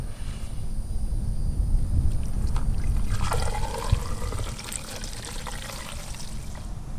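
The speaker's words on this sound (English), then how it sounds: "we'll strain this diesel as I pour it into this bucket here" Diesel fuel drained from a flood-damaged Dodge Viper pours steadily through a strainer into a bucket, a continuous close splashing trickle lasting several seconds with no talk.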